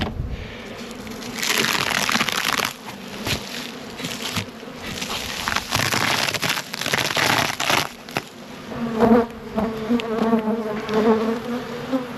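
Honey bees buzz loudly and close by at a hive during an inspection, swelling and fading with handling noises, a thick layered hum of many insects.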